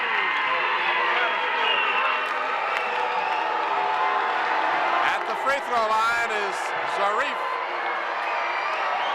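Crowd noise fills a basketball arena during a college game between the Hampton Crabbers and Bethel Bruins, with steady cheering and murmur under a commentator's voice throughout and brief louder whoops near the middle.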